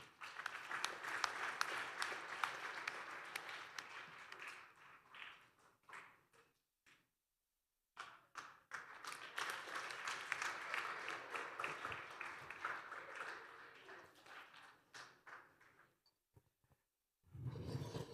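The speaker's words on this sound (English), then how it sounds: "I want you guys to welcome and give a round of applause for our pastor." A church congregation applauding for the pastor at an Easter Sunday service, sustained crowd clapping that fades, briefly drops to silence, then swells again in a long round before trailing off, heard at a moderate distance.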